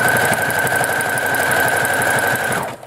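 A sewing machine stitches across a clothesline trivet, with a loud, steady rapid mechanical chatter running close and continuous before stopping at the end.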